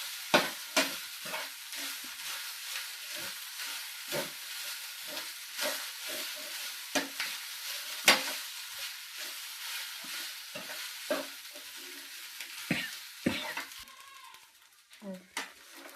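Spoon stirring and scraping Rayalaseema-style Erakaram spicy rice in a hot pan, with repeated loud scrapes over a continuous sizzling hiss, close up.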